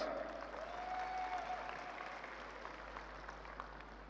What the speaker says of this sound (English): Applause for our amazing dancers.